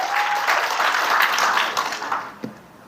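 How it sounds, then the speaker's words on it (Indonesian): A church congregation applauds during a sermon, a dense wash of many hands clapping together that holds steady for a couple of seconds, then thins and fades out with a few last scattered claps. "Yang sepakat tepuk tangan bagi Yesus."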